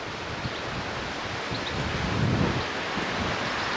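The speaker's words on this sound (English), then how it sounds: "The water is flowing over this road" Floodwater flowing over a road in Williton, West Somerset, running off the fields and onto the main road, makes a steady close rushing wash with wind buffeting the microphone and no talk.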